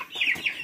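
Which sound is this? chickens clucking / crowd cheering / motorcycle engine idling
chickens clucking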